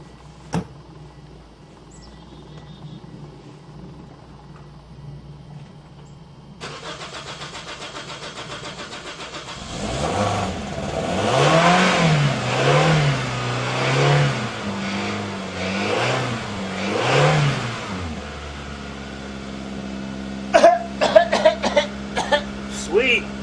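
A gasoline Toyota Corolla's engine, flushed after being filled with diesel, cranks with a labored, rhythmic churning. It then catches and revs roughly before settling into a running idle. Close-up, with clicks near the end.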